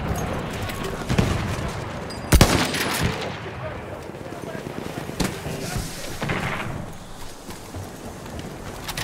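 Automatic machine-gun bursts and scattered gunshots from a Battlefield 1 Conquest match at night on the Nivelle map, sharp cracks amid continuous battle noise, with voices talking over the gunfire.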